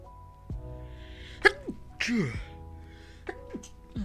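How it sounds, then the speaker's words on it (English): A sharp sneeze bursts out near the mic, then a second sneeze-like burst, with voices talking quietly around it. "Sneezing out here."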